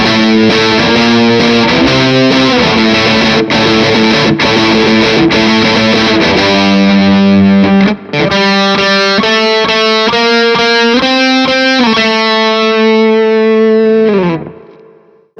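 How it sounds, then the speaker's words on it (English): A distorted electric guitar riff played through a Jubilee Silver Overdrive with a touch of spring reverb from a Flint, loud and chugging with sustained chords that ring out and fade at the end. "we just used the Jubilee Silver Overdrive for our main overdrive sound, and then a bit of spring reverb from the Flint again"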